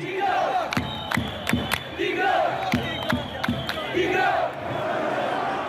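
Algerian Hirak protest crowd chanting in loud rhythmic bursts, sharp repeated shouted syllables rising over a dense roar of many voices, the chant swelling and pausing in waves.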